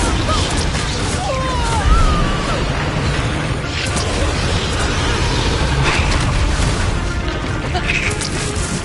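A Confringo spell explodes in the Hogwarts Legacy video game, a loud rumbling blast within dense, continuous battle noise, with game voices mixed in.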